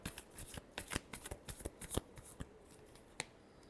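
Tarot cards shuffled close up in a rapid series of crisp riffling snaps, bunched in quick bursts and trailing off to a few last flicks.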